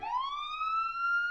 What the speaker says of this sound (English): I faintly heard a police siren coming from behind us